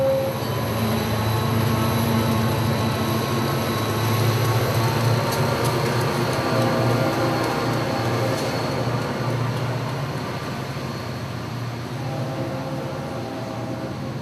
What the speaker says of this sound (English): Next is train 208, a Hialeah to Bowden job of rock and empty auto racks.